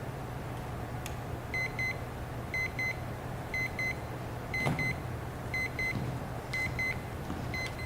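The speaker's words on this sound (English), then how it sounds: "you just heard a little alarm. The little clock that is placed on the stand here just alerted." A little alarm clock placed on a stand beeps in short paired bursts, repeating about every second, faint and a little distant over a low steady hum.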